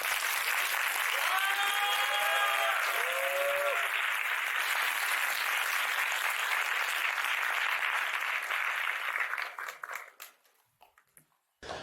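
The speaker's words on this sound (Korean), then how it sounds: "큰 박수 부탁드립니다." A crowd at a university talk concert on Korean politics breaks into loud, sustained applause with a few cheers early on, holding steady for about ten seconds before fading into scattered claps.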